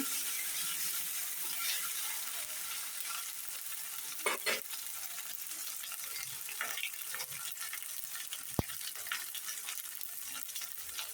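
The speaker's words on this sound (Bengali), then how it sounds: "এখন আদা আর পেঁয়াজটা একটু ভাজি ভাজি করে নিব" Paste of ground ginger and onion frying in a pan with a steady low sizzle and occasional stirring clicks and scrapes, one sharp tap near the end, no talk.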